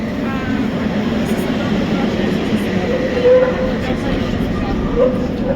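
A tram in Prague in winter, a loud continuous rumble of wheels on rails from nearby, with a couple of brief squeals, under people talking.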